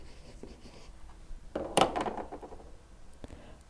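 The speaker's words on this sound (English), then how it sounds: "Actually, I'll write that down." A pen scratching out notes on a geometry proof, a short quiet burst of scribbling lasting about a second amid faint room noise, close and without speech.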